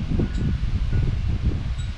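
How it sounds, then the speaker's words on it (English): Wind gusting around a GoPro Hero 8 Black camera outdoors near trees, a loud low buffeting rumble in uneven pulses with rustling on top, no talk. "See how hard the wind's blowing"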